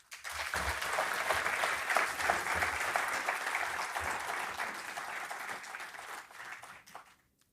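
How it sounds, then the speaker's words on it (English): A conference audience gives a full round of applause, a dense, even wash of many hands clapping in a large hall, sustained for about seven seconds before tapering off quickly. "they deserve a rich round of applause."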